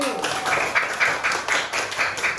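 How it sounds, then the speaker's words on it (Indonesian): A classroom of students claps hands for a group, a short burst of rhythmic, fairly regular claps at moderate distance, with voices mixed in. "tepuk tangan untuk kelompok 1"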